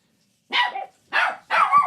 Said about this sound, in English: Dogs got all crazy.